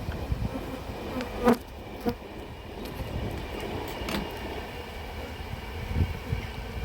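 Honeybees buzz continuously in a dense, humming swarm, with a few individual bees zipping close by in brief louder passes.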